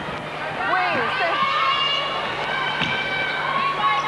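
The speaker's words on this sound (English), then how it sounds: "the crowd trying to lift Sydney Energy now" A netball crowd at a 1996 Mobil National Super League match between Sydney Electricity and Adelaide cheers and shouts for Sydney. The noise is a dense, sustained roar with high voices rising through it.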